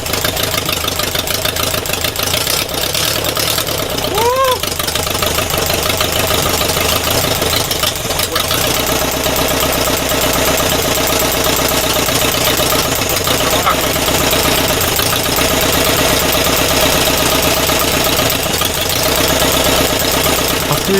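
A freshly rebuilt air-cooled engine idles steadily on its first start, a loud continuous mechanical drone, with a voice briefly audible early on.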